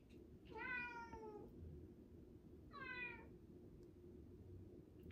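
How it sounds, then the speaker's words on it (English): A domestic cat meows twice, a longer mewing cry then a shorter one a beat later, fairly close but soft over a quiet room hum. "Sorry, that's my daughter's cat, Buzz, and he is needy."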